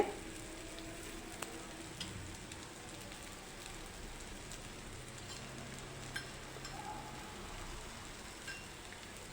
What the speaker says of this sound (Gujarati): આ પરાઠાને તમારે કોઈ પણ નોનસ્ટિકના તવામાં શેકવાના છે